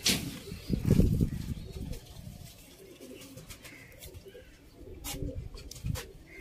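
Domestic pigeons kept for pigeon flying in Sialkot coo and flap their wings, with a burst of wingbeats near the start and softer fluttering and cooing afterward, fairly close by.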